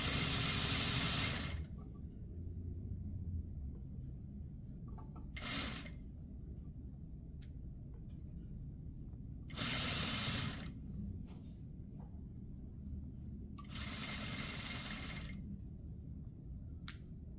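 A sewing machine stitches a jacket shell lapel to its facing, running in four separate loud bursts of rapid whirring separated by quieter pauses with soft fabric handling.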